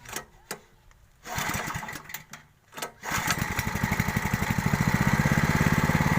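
A small engine sputters with a few uneven pulls and coughs, then catches and settles into a steady, fast chugging run that stays close and fairly loud.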